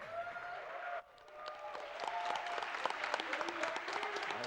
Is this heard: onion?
no